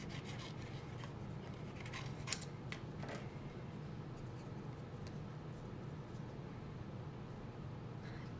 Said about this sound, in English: let's fussy cut him and see what he looks like